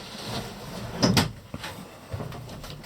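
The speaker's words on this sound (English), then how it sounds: "You can slide this door closed." A sliding cabin door on a small sailboat is pushed shut, giving a short wooden rolling slide and a soft knock as it closes, close and alone.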